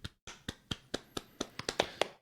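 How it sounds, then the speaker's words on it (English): About a dozen crisp, close hand claps in a quick, steady rhythm, sounding like one or two people clapping on a podcast. "A round of applause for them, please."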